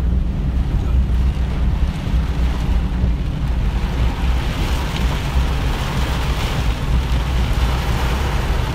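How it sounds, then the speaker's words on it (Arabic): Torrential rain driven by strong wind roars steadily and loudly, with constant microphone buffeting and no break in the dense rushing noise. "يعني مطر غزير مع هواء."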